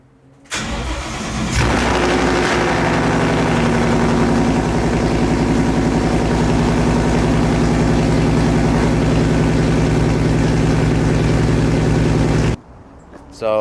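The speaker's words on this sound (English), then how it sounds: "I'm gonna give you guys a little cold start." Straight-piped Ford Mustang engine fires up from cold with a sharp starter burst, then settles into a loud, steady, throbbing idle close by before cutting off abruptly near the end.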